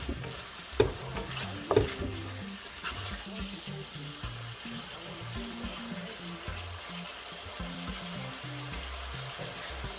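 Beijing beef and vegetables stir-frying in sauce, a steady sizzle with a few sharp clinks of a utensil early on, continuous and close with no talking.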